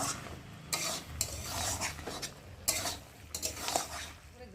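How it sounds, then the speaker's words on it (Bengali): A spoon stirs and scrapes a pan of taro and Malabar spinach curry with shrimp, in repeated close metallic strokes over a low bubbling simmer. "দিয়ে একটু ভালো করে নাড়াচাড়া দিয়ে একটু ফুটিয়ে নেব"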